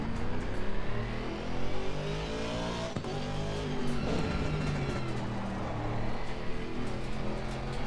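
A race car in Assetto Corsa Competizione pulling out of the pits, its engine a loud, continuous close-up drone with rising and falling revs as it shifts through gears, a brief sharp transient in the middle.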